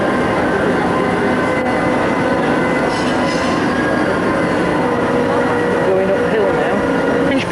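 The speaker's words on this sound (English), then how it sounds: "There's one of the little trains now on the track. This little train's got the stern, he's pulling us up and back." Panama Canal lock locomotive on its track towing a cruise ship at the stern, a continuous rumbling rail noise with faint squeals, heard steadily throughout.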